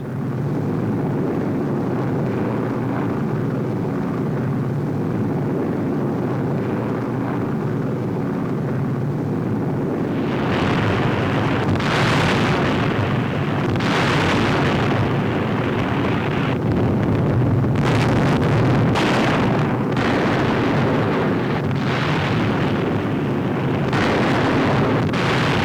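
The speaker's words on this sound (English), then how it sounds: "Remarkable pictures of the RAF bombing the Nazis in broad daylight." Archival newsreel sound of an RAF daylight bombing raid on a large radio plant, with a steady roar of aircraft and wind giving way to repeated loud booming explosions in the second half.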